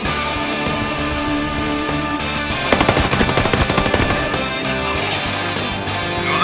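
Rapid bursts of gunfire in the shooter game Ghost Recon Breakpoint crackle over a steady musical background, the shooting swelling into a dense volley before tapering off.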